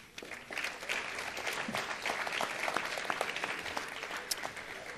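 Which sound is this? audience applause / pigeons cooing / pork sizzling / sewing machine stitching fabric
audience applause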